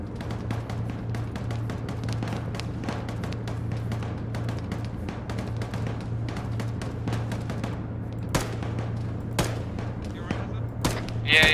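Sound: gunfire in ArmA video game battle

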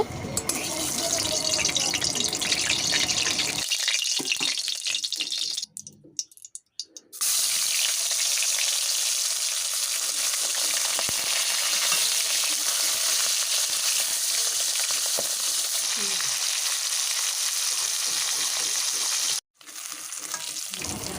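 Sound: fish frying in hot oil

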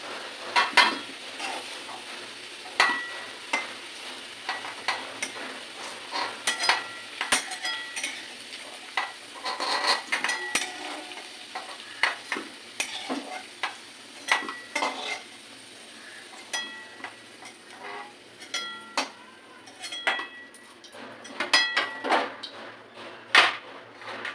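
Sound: potatoes frying in a pan

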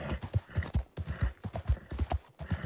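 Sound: horse riding uphill in video game Red Dead Redemption 2

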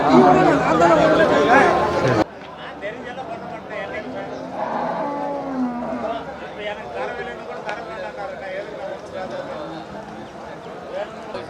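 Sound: cattle at a livestock market

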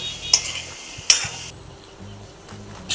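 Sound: potatoes being stirred and cooked in oil

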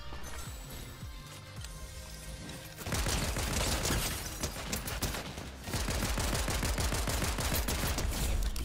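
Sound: pistol gunfire in Fortnite video game

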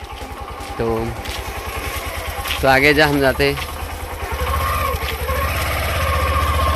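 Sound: motorcycle engine idling

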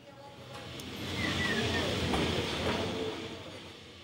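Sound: old wooden electric tram of line 28 in Lisbon

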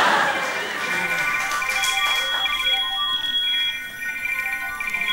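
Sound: phone ringtone ringing

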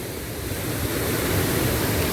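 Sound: water rushing at Galdhara dam after gate release

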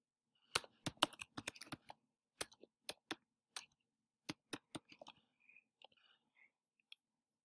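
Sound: typing on a computer keyboard

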